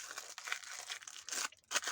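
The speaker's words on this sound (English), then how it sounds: "We've got to unwrap them" Washi tape packaging is unwrapped up close in a steady run of crinkling and tearing, fairly quiet but continuous, with a brief pause before a final rustle.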